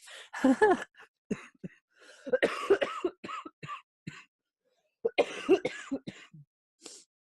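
Close-up bouts of coughing break out again and again, mixed with a laugh-like voice, separated by short pauses.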